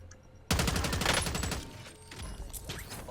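Rapid automatic gunfire in the video game Warzone bursts in loudly after a brief quiet moment, a dense rattling volley with ringing mechanical clicks that eases slightly and then continues.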